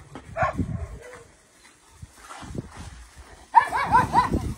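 Dogs at a shelter on a rainy day give a few short barks and yips, moderately close and separated by brief pauses, with quieter muffled sounds between.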